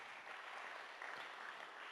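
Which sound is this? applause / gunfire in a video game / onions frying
applause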